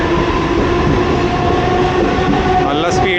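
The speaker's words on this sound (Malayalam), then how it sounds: "വണ്ടി കണ്ട പെട്ടെന്ന് സ്പീഡ് പിക്കപ്പ് ചെയ്ത്" Mumbai local train gathering speed, a loud continuous rumble with rising tonal whine from the motors and wheels, steady and close throughout, with a brief higher squeal near the end.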